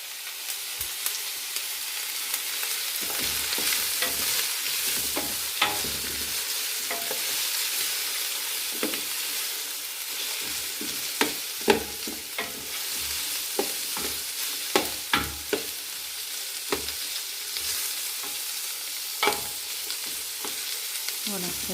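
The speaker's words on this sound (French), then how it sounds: "Les oignons ont bien sué, sont légèrement rôtis" Onions soften and lightly roast in a pan for plum chutney, giving a soft continuous sizzle broken by frequent sharp scrapes and clicks of a utensil stirring, with no speech.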